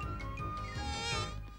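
A cartoon fly buzzes steadily and continuously, a whining, wavering drone that swells slightly louder near the end, close and unaccompanied by talk.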